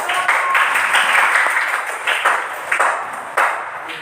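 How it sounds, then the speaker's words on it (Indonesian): A crowd claps in a steady burst of applause, loud and close, swelling and fading in a few waves. "Kita beri tepuk tangan"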